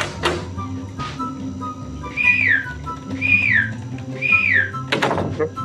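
In the horror video game Inside the Backrooms, three rising-and-falling whistles repeat about a second apart, clear and fairly loud over a low ambient hum, framed by thuds and bumps of movement.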